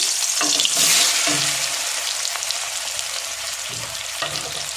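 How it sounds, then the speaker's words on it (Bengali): Potato pieces coated in salt and turmeric fry in hot oil in a home kitchen, giving a loud, continuous sizzle with a few brief stirring scrapes and no voices. "এবার আমি আলুটা একটু লবণ হলুদ মাখিয়ে ভেজে নেব, এই তেলেই আমি ভেজে নেব"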